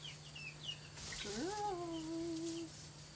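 Backyard chicken yard with hens, a rising and falling drawn-out fowl call plus a few brief chirpy clucks, fairly faint over a low steady hum, no talk.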